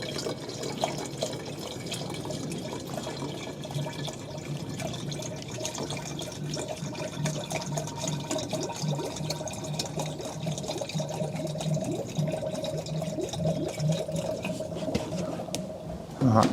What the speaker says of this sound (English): I'll go and get some water and I'll carry on topping this up